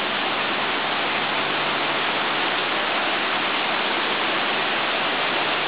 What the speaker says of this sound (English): I think we are lucky to see the rain also because it's a different experience.